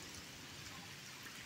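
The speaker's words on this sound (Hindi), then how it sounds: "इतना बारिश तेज है" Heavy rain pouring down outdoors during a lightning storm, a steady dense hiss of falling water with no break, fairly quiet overall and without talk.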